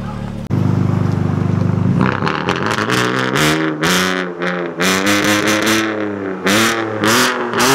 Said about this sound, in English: he's about to turn it on for you guys and show you guys a little bit of a rev